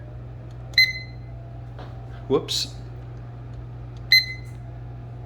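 A kitchen timer gives a few short, separated electronic beeps over a steady low hum, with a brief clatter and a voice speaking between them.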